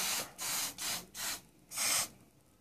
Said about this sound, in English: Pull it, I'm gonna pull it tightly and then spray it